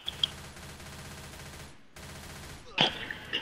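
Gunfire in the zombie shooter Left 4 Dead 2, continuous rapid automatic fire that cuts out briefly, resumes, then ends in a sharper burst at moderate level.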